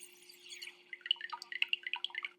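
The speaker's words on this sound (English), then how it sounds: "Water drips in as people are born." Quick plinking drops of water falling into a glass, a rapid irregular run of bright drips, close and fairly soft against near silence.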